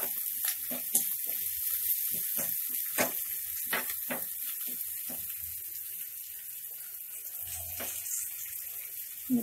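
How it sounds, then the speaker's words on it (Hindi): Onions frying in ghee with cumin give off a soft continuous sizzle with crackling pops, heard at moderate distance with occasional clinks of kitchen utensils. "तो कुछ प्याज भून रहा है उधर,"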